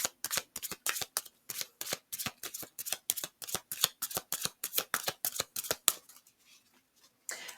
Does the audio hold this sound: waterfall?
no